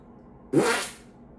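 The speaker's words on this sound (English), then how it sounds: "The American belch. Compliments to the chef." A single loud belch of about half a second, rough and low, heard after a meal of four cheese, canned beef and smoky country bacon gravy, with quiet room tone around it.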